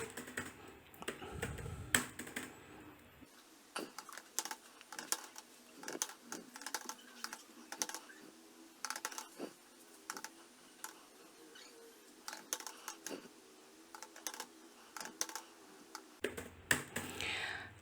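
Keys clatter in quick irregular bursts on a computer keyboard as figures are entered into an Excel spreadsheet for tallying election votes, with close, crisp clicks running steadily throughout.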